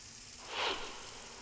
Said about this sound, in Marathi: आता देखील पाऊस जोरदार बरसायला सुरुवात झालेली आहे।